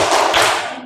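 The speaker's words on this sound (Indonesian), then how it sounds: "Tepuk salut." Schoolchildren in a class doing a rhythmic salute clap, a brief burst of several quick hand claps close by that fades out within a second.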